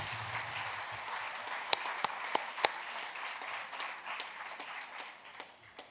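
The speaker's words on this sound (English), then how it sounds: "give a round of applause to all the extraordinary people who make it possible" An audience at a literary festival applauds, a fairly faint, diffuse patter of many hands with a few sharper individual claps standing out, tapering off toward the end.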